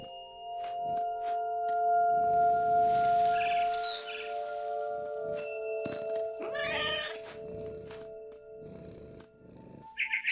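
A cat meows and purrs in the video game What Remains of Edith Finch, with soft tonal chirps and short calls over quiet game music and ambient tones, fairly close and clear.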